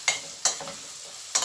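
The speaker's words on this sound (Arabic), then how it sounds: "ادي بس تشويحة للبهارات مع البصل شوية" Spices and onion sautéing in a pan, with three sharp stirring scrapes over a quiet, steady sizzle and no talking.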